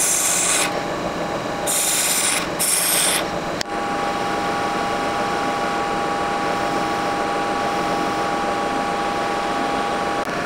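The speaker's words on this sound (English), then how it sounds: "I machined down the top of the upper die so that there's really only the fillet part left" A 3D-printed upper die for sheet metal forming is machined down, giving a steady, loud rasping machine drone throughout, with harsher bursts of cutting noise in the first few seconds.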